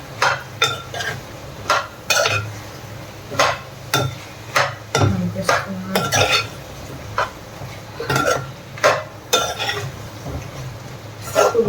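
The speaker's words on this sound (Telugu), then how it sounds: "సో ఇదంతా ఇప్పుడు కలిపిస్తున్నాను" A spoon repeatedly scraping and knocking against a pan while chicken gravy curry with spices is stirred, sharp rhythmic clinks and scrapes over a low background sizzle, close and steady throughout.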